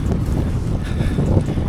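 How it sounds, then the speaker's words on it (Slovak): A strong, unpleasant headwind blows steadily against a cyclist on a triathlon training bike ride, a loud, continuous rumbling buffet close on the microphone. "Dosť nepríjemný vietor."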